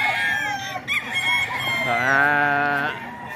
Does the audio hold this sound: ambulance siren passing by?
no